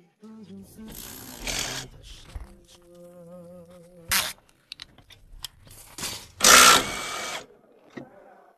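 A ratchet wrench clicks in short bursts while removing shock absorber bolts from a jacked-up car in a repair shop, with metallic clanks and someone talking between the bursts.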